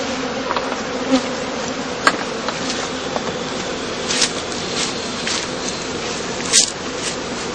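Dense, continuous buzzing of many honeybees at an open straw skep hive in a heathland apiary during heather bloom, loud and close, with a few individual bees droning past.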